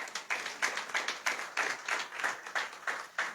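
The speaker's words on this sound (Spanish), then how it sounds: "Denle ese aplauso al Señor" A church congregation claps in rhythm during a worship service, with steady, regularly spaced beats of many hands in unison, moderately quiet and continuous.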